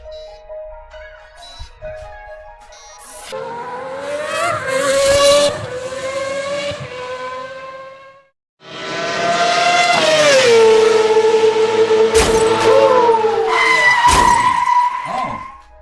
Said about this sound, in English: let's see if Mothman can handle him on the Mount Hood Rally